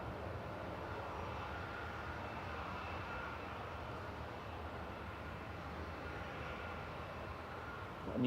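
A Qatar Airways airliner taxis around the northern edge of Manchester Airport, its engines a steady, distant roar that holds even throughout, with a louder swell right at the end.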